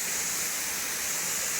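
Waterfall at Khuludi Mahadev Temple in Odisha, a steady roaring rush of falling water, loud and continuous throughout with no voices.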